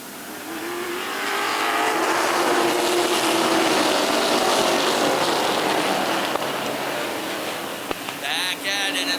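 Race cars roar back up to speed on a restart behind a Ford Mustang pace car, a loud sustained engine drone swelling across the field and fading slightly, with a commentator talking over it.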